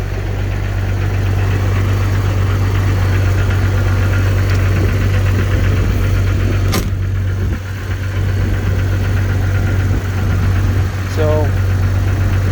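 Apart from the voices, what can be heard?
engine idling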